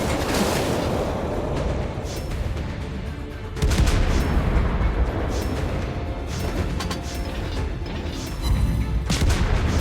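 Warship guns fire in the naval game World of Warships Blitz, a dense, continuous barrage of booming salvos and rumbling blasts with sharper cracks scattered throughout, loud and unbroken for the whole stretch.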